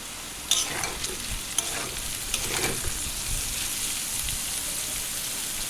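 Potato, long beans and carrot fry in white oil in a wok with a steady crackling sizzle, broken by a few scraping stirs and clatters early on, close and alone without talk.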